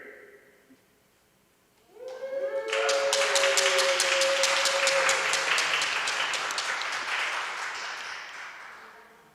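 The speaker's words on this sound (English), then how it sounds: "let's practice cheering" A group of students bursts into cheering and clapping after a brief quiet moment, loud and sustained for several seconds with rapid overlapping claps, then slowly tapering off.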